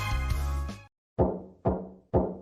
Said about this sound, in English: I heard a knock on my bedroom door.